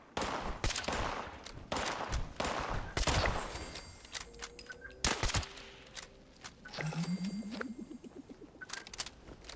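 Gunfire in the video game Fallout 76, loud bursts of rapid shots and single cracks in irregular clusters, with rising electronic game tones between volleys.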